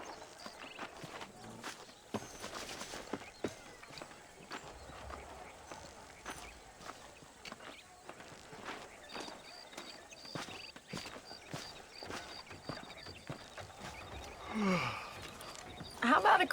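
Horse hooves clip-clop in Red Dead Redemption, a steady walking rhythm of soft thuds running through the scene under a bed of game ambience, with a louder scuffle near the end.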